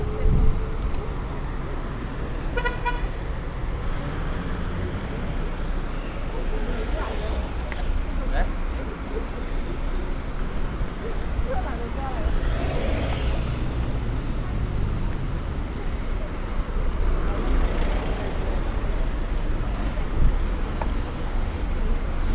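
Cars and buses fill a busy street in Yangon, Myanmar, where motorbikes are banned. Engines rumble and vehicles pass at middle distance in a steady wash of roadway noise, with voices nearby.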